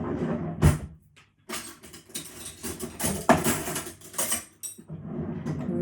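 A big metal spoon clinks against a jar and bowl while honey is measured out for oat banana bread, with close, moderately loud knocks and scrapes in irregular bursts and brief quiet gaps.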